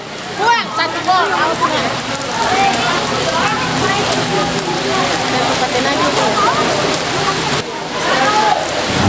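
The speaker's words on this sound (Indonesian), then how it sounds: "Lapangan ini jauh sudah di guyur hujan yang cukup keras." Heavy rain pours steadily over an outdoor football pitch at a local match, a dense continuous hiss with scattered voices and crowd chatter layered throughout.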